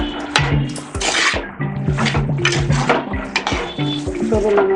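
Okra (ladies finger) sautéed and stirred in a pan for a spicy tamarind gravy, with repeated close metallic clanks and scrapes of a spatula against the pan over a low sizzle.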